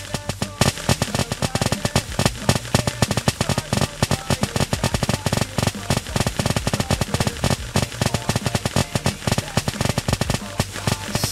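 A bomb ability explodes in the Roblox Santabot game, a loud, rapid, unbroken string of crackling blasts like firecrackers going off without pause.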